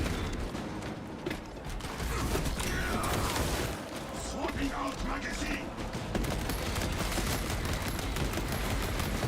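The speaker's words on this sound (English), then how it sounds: "this is where it actually performs as a bolt rifle should, where you actually just shoot through these guys" Bolt rifle fire in Space Marine 2 runs as a dense, continuous rattle of rapid shots mixed with mechanical clatter and heavy game noise, with a voice talking over it.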